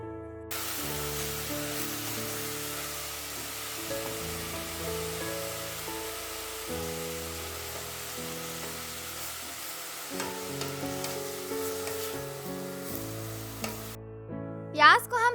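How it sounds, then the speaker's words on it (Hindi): Onions softening in a frying pan for turmeric leaf patoli, a steady soft sizzle running almost unbroken and fairly close, with a few faint clinks near the end. "प्याज को थोड़ा सा सॉफ्ट होने तक पका लेंगे।"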